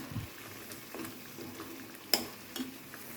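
Mutton curry of onion, tomato and pepper water simmering in a pot, with soft bubbling and sizzling, a few stirring scrapes and one sharp clink of a utensil, all quiet and close.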